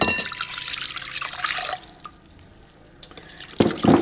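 Warm water is poured into a mixing bowl for soft pretzel dough, a close, bright splashing stream that fades out midway, then a brief stir or clink of the bowl near the end.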